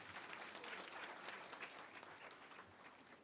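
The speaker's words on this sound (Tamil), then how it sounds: "நல்லா கைத்தட்டல் தாங்க" Quiet, distant audience applause at a speech by Minister Rajmohan Arumugam, steady dense clapping sustained throughout at low volume.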